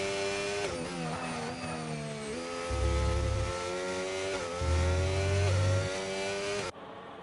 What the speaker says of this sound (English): Here comes the McLaren.